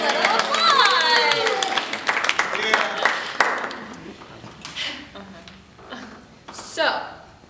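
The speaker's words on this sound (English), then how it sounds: "I think that deserves a little applause!" An audience at a junior school spring play claps in a burst of scattered applause mixed with excited cheering voices, fading out as the clapping thins.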